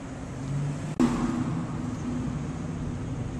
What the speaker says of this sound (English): Sorry, I'm driving as I'm doing this, so it's a little shaky.